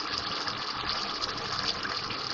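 Lemon juice, two tablespoons, is poured into a pot of chicken stew, giving a steady, even liquid gush that runs for about two seconds with no pause.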